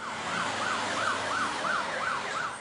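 An ambulance siren wails in a steady, repeating up-and-down cycle as the vehicle descends a hillside in Rio de Janeiro's Complexo do Alemão toward an emergency care unit; it is loud and close, with no talking.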